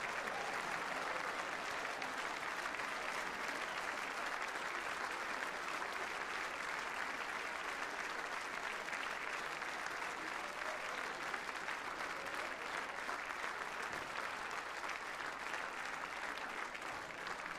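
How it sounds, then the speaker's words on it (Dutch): Sustained warm applause from a crowd welcoming the new city carnival prince of 2015, a dense, even roar of clapping that continues loudly and unbroken throughout. "zo ontvangen te worden door dit warm applaus voor u"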